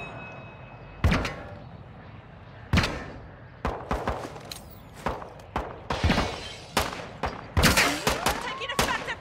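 Video game gunfire comes as scattered sharp cracks and short bursts, some with glassy shattering and thuds, irregularly spaced and growing busier toward the end, at moderate distance.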